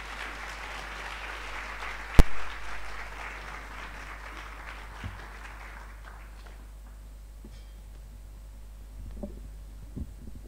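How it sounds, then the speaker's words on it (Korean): An audience at a Korean missionary conference gathering in Thailand claps to welcome speakers to the stage; the applause swells then fades out over several seconds, leaving room noise with a low hum. "올라오실 때에 뜨거운 박수로 맞아 주시기 바랍니다"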